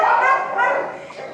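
A young, very active terrier mix dog at a shelter gives a couple of high, yappy barks with a whimpering edge, close and loud, with no talking over it.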